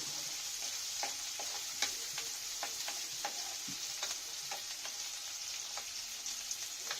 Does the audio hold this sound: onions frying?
yes